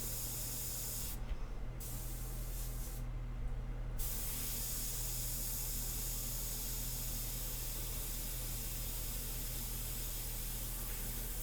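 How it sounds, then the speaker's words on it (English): An airbrush sprays paint onto a portrait in a continuous loud hiss, broken twice by short pauses near the start, then running steadily with no voices. "I'm just going to go further away from the airbrush, further away from the surface."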